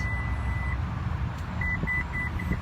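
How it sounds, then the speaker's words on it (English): A short electronic beep from a 2018 RX, NX or GX power tailgate, followed by a quick series of repeated beeps over a low steady rumble, fairly close. "When you get that series of beeps, then you know it's memorized the new position."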